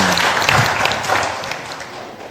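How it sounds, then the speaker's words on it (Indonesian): An audience claps at an Indonesian book launch event, a dense burst of applause that swells and then thins out over a couple of seconds. "Tepuk tangan nih"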